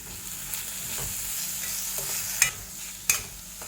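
Onions fry with a little salt in a pan for South Indian tomato rice, giving a soft, steady sizzle. Two sharp clicks from a utensil stand out near the end.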